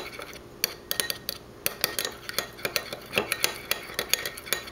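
Honey being mixed in a bowl for a face mask, with quick metallic scrapes and taps of a spoon against the bowl in an uneven rhythm, close and clear with no talking.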